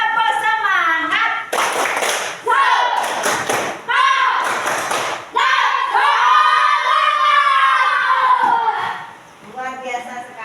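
Students in a classroom doing a rhythmic spirit clap, bursts of sharp group clapping and thumps alternating with children's voices and a teacher talking in between.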